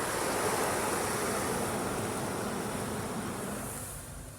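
Spot-free rinse water sprays steadily over a car in an automatic car wash, a dense hiss that fades slightly at the end.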